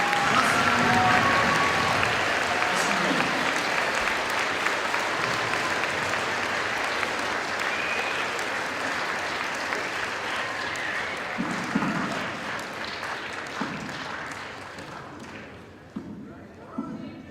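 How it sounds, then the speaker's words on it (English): A high school assembly audience applauds, sustained clapping from the crowd that holds steady and then slowly tapers off with a few scattered claps near the end. "give a warm welcome and a big hand of applause for Adam Beach."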